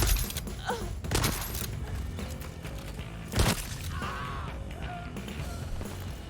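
Ballistic turret firing in the video game Deathloop: several sharp gunfire bursts, the loudest near the middle, over a busy bed of game noise and music.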